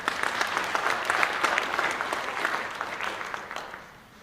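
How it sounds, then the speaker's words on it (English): Audience applause at a school district State of the Schools presentation, a steady, full crowd clapping sustained for about four seconds before tapering off at the end. "And now that's something to clap about and be proud about."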